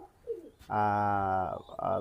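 A Pakistani tournament pigeon gives a sustained, resonant coo lasting nearly a second, then a shorter second coo, close and clear over a quiet background.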